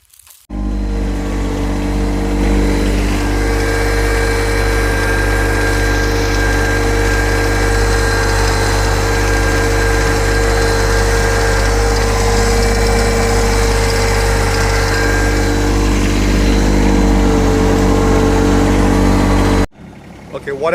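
Yanmar SA324 compact tractor's diesel engine starts and runs at a steady, close idle for about twenty seconds, then shuts off abruptly.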